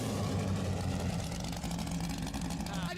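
A straight-piped Ford GT40 engine rumbles loud and continuous at a steady idle-like drone, heard over a microphone with a voice talking faintly underneath.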